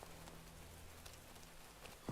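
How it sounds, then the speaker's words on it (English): Soft, steady rain patters in a video game level, a quiet continuous wash of drops with no talking over it. "I will say the rain is also pretty."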